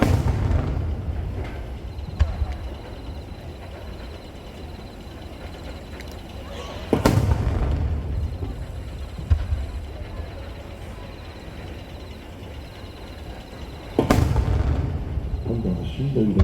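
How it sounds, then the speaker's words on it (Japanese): Fireworks at the Nagashima Onsen display burst in three heavy booms spaced several seconds apart, each over a continuous rumble of crackling and distant crowd noise. "これも芯の入った花火ですね。"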